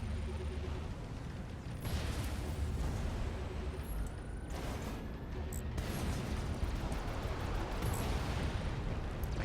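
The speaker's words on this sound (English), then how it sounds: "I still have all 4 cannons firing." Ship cannons firing in the game Fracture, a dense, continuous barrage of booms and blasts layered over steady rumbling, loud and close throughout with no talk.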